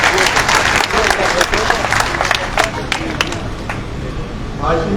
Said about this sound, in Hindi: एक बार जोरदार तालियों से स्वागत करेंगे राव साहब का